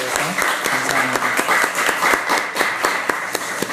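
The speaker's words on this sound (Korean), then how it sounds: "우리 박수 한번 하겠습니다" A congregation at a Korean church Sunday service claps together, a steady patter of many hands running throughout with regular sharper accents and a faint voice underneath.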